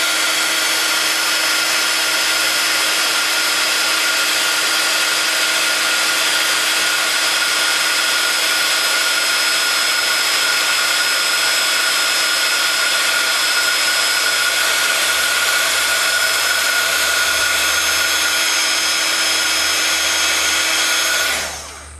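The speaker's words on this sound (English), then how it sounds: "Then grabbing your heat gun" Heat gun blowing steadily for heat embossing ink on paper, a loud continuous whirring roar with a fan whine that holds unbroken before cutting off at the end.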